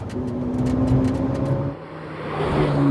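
A Ford GT's biturbo V6 accelerates, its engine note rising and droning loudly, easing off briefly, then climbing again in revs.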